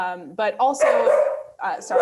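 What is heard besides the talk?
dog barking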